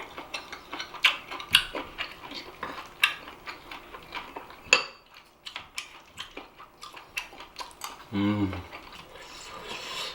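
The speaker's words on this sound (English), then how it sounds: "Pour some of this and mix, and with a spoon, everything" A spoon clinks and scrapes while mixing stir-fried squid in red pepper paste together with rice: sharp, irregular, fairly quiet taps and scrapes with no talking.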